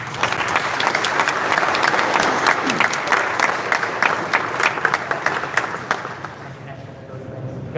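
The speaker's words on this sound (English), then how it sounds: "we'll give one more round of applause" A crowd at a FlightSimExpo award presentation breaks into sustained applause, dense clapping that fills the hall and tapers off toward the end, with some voices mixed in.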